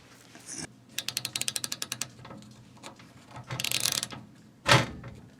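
An LTT ratcheting screwdriver used while building a PC, producing a quick run of about a dozen crisp, close clicks, followed by softer handling rustle and a brief sharp knock.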